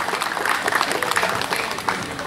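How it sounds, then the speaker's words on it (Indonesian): Audience applause for senior members at the GMKI 2022 national congress (Konas) in Jayapura, Papua: dense, steady clapping from a large crowd filling the whole stretch, fairly loud with no voices on top. "Kita kasih tepuk tangan dulu untuk senior-senior kita dong yang lebih keras."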